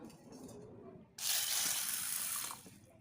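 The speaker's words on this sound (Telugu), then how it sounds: "ముందుగా పెసరపప్పును శుభ్రంగా కడుక్కుందాము" Running tap water gushes over moong dal being washed for about a second and a half, close and fairly loud, after a quieter lead-in; no speech.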